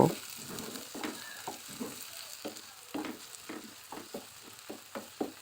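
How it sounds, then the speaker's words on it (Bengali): Chopped onions frying in hot mustard oil for a dried loitta fish bhuna, giving a steady soft sizzle with regular rhythmic scraping as they are stirred, fairly quiet and close. "তেলটা গরম হলে এক কাপ পেঁয়াজ কুচি দিয়ে সফট করে ভেজে নিব"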